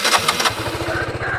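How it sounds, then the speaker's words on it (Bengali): A used motorcycle with an underbelly exhaust starts on a single press of the starter and settles into a steady, close thumping idle, the start marked by a brief whirring burst. "ওয়ান ক্লিকে গাড়ি স্টার্ট"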